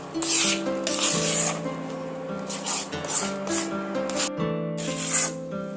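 Milk cake mixture stirred continuously in a kadai, with repeated close scraping and rubbing strokes against the pan in an uneven rhythm over a steady tonal hum.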